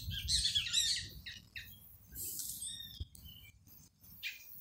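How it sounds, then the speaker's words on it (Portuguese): A small bird chirps in an orange orchard, giving bright, quick bursts of twittering calls with brief pauses between them, fairly soft against a quiet outdoor background. "E a alegria do passarinho, né?"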